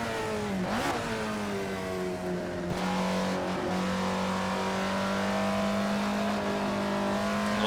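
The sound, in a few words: Alfa Romeo 33 Stradale engine driving, Assetto Corsa video game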